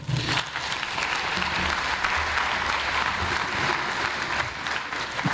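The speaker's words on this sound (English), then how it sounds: "please give a warm round of applause to Neil" A conference audience applauds at GNU Radio Conference 2024. The clapping is dense and sustained at an even level for several seconds, with a faint murmur of voices underneath.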